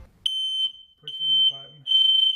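A shrill, high-pitched smoke alarm beeps in repeated short bursts, with a person talking between and under the tones.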